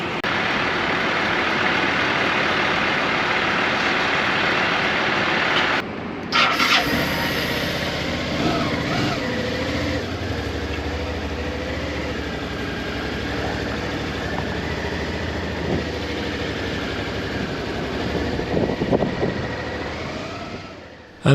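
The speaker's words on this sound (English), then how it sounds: "I'm getting drowned out by the big truck behind me" A big truck idles close behind a car on a road in Japan, a steady low diesel rumble that drops briefly after a sharp break, then settles into an uneven idle with faint clunks.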